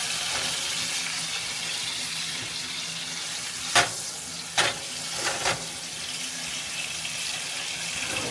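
Shrimp for pad thai sizzle in a pan with a steady, even hiss, broken by a few sharp utensil clinks near the middle.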